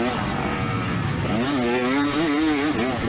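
A 2024 KTM 300 SX two-stroke dirt bike engine revs hard on the Albany MX Park track, its loud, raspy note climbing and wavering in pitch as the throttle rolls on and off, close and continuous throughout.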